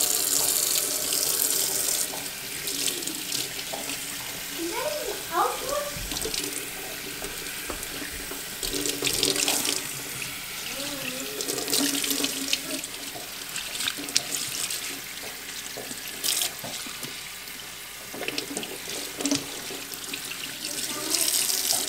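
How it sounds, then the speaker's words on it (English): Water runs steadily from a tap into a kitchen sink to rinse off cured homemade bacon, a constant close splashing rush that lasts throughout with faint handling noises underneath. "let's go rinse all of this off and then we'll put it back in our bin"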